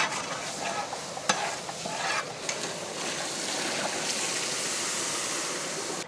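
Ginger garlic paste and masala powders being stirred in a pan for a seafood bucket masala, a steady close scraping and sizzling wash with a few sharp spoon clicks, no talking.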